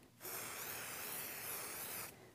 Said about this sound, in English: I've got here the spray adhesive KK2000, and it's a temporary spray adhesive, and this will make my stabilizer sticky.